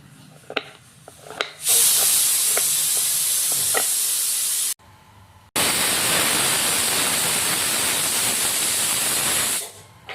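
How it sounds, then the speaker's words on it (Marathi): A pressure cooker baking a homemade Oreo cake releases a loud, steady steam whistle that hisses for about eight seconds, cut off briefly midway, after a few soft kitchen clinks. "सिटी वाजली म्हणजे रेडी होत आलाय."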